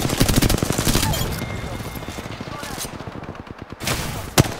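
Automatic gunfire in the Apex Legends video game, rapid bursts of close, loud shots in a fast rhythm, trailing off and then ending with one sharp final shot, with a voice speaking in between.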